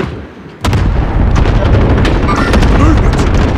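Cluster strike explosions in a war video game roar in as a dense, loud, continuous barrage of booms and crackling blasts after a brief quieter lead-in.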